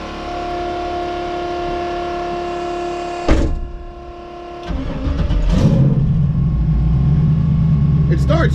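A twin turbo Camaro engine cranks and fires up with a sharp burst, then settles into a loud, steady rumbling idle close by, following an earlier stretch of steady whirring hum.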